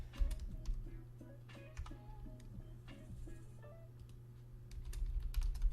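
Rapid clicking keystrokes on a computer keyboard, close and fairly quiet, with a steady low hum in the background.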